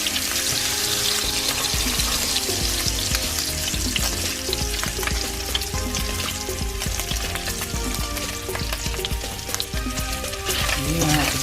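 Cabbage and bacon fry loudly in hot oil, giving a dense, steady sizzle with crackles and occasional stirring scrapes, close and continuous, with no talking.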